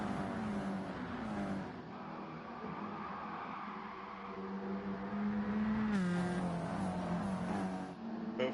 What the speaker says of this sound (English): Leading a pack of 14 cars.